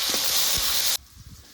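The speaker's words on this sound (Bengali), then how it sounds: "লবণ দিয়ে দিয়েছি পেঁয়াজটাকে একটু নেড়ে চেড়ে নেব" Onions salted and frying in a pan give a loud, steady sizzle with a few low scrapes of stirring, then the sizzle drops off sharply after about a second, leaving only faint stirring knocks.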